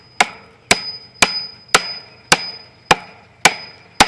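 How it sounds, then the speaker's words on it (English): Barbed staples are hammered into a wooden fence post with sharp metallic blows, seven evenly spaced strikes about half a second apart, each ringing briefly, close and loud. "How to hammer in barbed staples."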